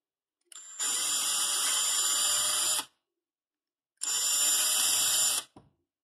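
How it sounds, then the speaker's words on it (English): A power drill boring out holes in a part for an Ender 3 V2 3D printer: two high whining bursts of about two seconds each, close and clean, separated by a short silence. "I'm going to drill these out."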